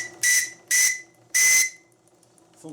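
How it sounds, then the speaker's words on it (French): Three steam whistle blasts from a live steam model boat, sharp and shrill with a steady tone, each about half a second long with short gaps, the third held longest, close and loud with faint hiss between. "mon sifflet"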